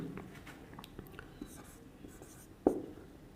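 A pen scratches out Hindi letters by hand, soft close strokes with small taps, ending in a sharper tap, under quiet background hiss.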